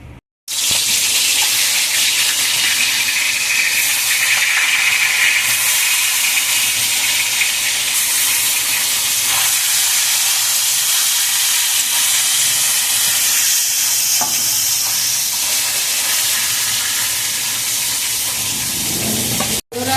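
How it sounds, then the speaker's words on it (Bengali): Live magur catfish rubbed with salt and turmeric fry in hot oil, a loud, continuous roaring hiss and spatter that holds steady for a long stretch, close up. "আমি এবার মাগুর মাছটা ভাজা করব।"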